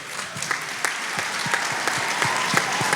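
Audience applause at a multigenerational church forum, a full crowd clapping steadily with some individual sharp claps standing out, loud and continuous with no talking over it.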